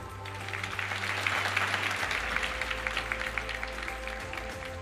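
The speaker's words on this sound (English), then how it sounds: "They deserve a round of applause." Audience applause at a skills competition closing ceremony, a soft, continuous wash of many hands clapping, heard from a distance over a steady low hum.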